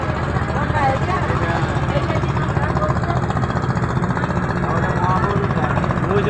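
A motor launch ferry crossing the river from Nabadwip to Mayapur, its engine running as a steady, loud, continuous drone with water and open-air noise throughout, voices faintly mixed in.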